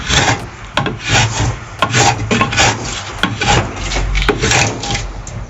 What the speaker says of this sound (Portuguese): Você vai cortando, a faca vai passando e vai tirando pedaços, tá? Você vai passando a plaina